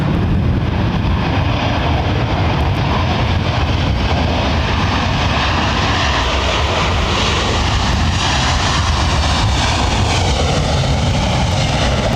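Jet airliner engines at London Heathrow Airport give a loud, continuous broadband roar that holds steady throughout, with no talking.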